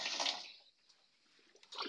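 Water splashes out as it is poured for pigs in a short burst, fades to near silence, then briefly splashes again at the end, faint and close.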